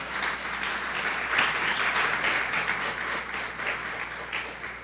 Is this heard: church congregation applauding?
yes